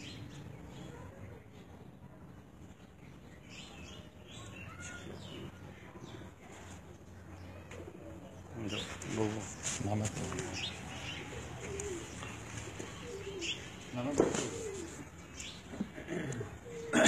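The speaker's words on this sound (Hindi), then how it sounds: "ब्रीड के ये कबूतर उस्ताद चौधरी अबू बकर गुलजार की छत पर उन्होंने परफॉर्म किया" Breeder pigeons cooing on a rooftop, soft low coos repeating against a faint outdoor background, growing somewhat livelier in the second half.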